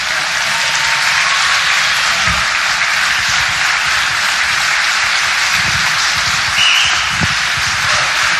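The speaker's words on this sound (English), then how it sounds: "we can give them all a round of applause" Sustained crowd applause at a GOP get-out-the-vote rally, a dense, steady wash of many hands clapping for the speakers across the whole stretch, loud and close, with scattered sharper claps and faint cheers.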